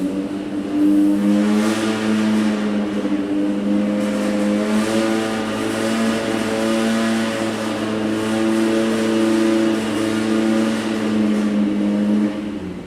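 An EMPI air-cooled engine holds a steady, loud drone on the dyno throughout a pull at an engine competition, its note swelling slightly as it runs, with no talk over it.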